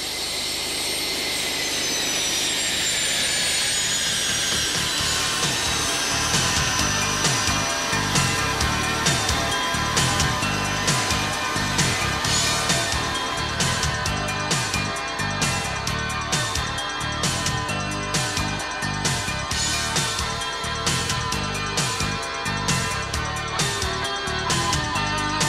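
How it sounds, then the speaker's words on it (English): A U-125A aircraft's jet engines whine at high pitch as it performs high-speed taxiing, a loud sustained roar with a steady train of rhythmic thumps from the rolling wheels. "the aircraft moves for the first time with the thrust of its own engines to carry out power checks and"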